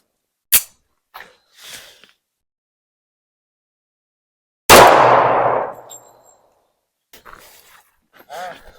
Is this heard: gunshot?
yes